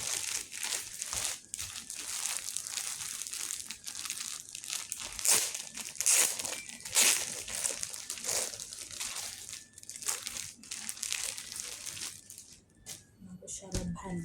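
Plastic packaging around new summer work uniforms is crinkled and torn open in a rapid run of crackling rustles and crunchy bursts, close and fairly quiet, with a brief voice near the end.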